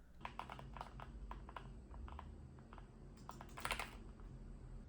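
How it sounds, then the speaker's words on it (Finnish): Typing on a Keychron K4 HE keyboard with magnetic switches, a steady run of soft, close key clacks with bursts of faster keystrokes near the end, heard alone over a low background hum. "tämän näppäimistön akustiikka on vaan loistava"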